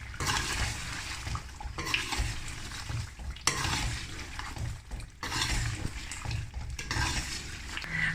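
Fried eggs and potatoes being stirred in a pan, giving bursts of scraping, sizzling stir noise in repeated strokes separated by brief pauses, close and moderately quiet, with no talking.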